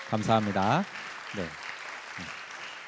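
Church congregation clapping to welcome performers of a special song at a Sunday worship service, a steady wash of applause running beneath someone speaking over it.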